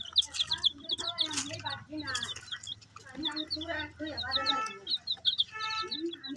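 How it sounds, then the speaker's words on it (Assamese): Turkey chicks on a poultry farm chirp in a steady stream of high, rapid peeps, with several birds calling at once close by while a person talks throughout. "ইয়াত 6টা পোৱালি আছে, 6টা এনেকৈ খেলি আছে।"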